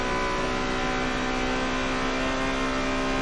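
A race car engine drones at a steady high pitch through the final corner at Watkins Glen in a racing video game, loud and continuous with no audible speech.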